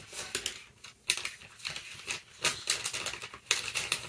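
Sheets of tracing paper being picked up and handled at close range, giving bursts of crisp crinkling and rustling separated by short pauses.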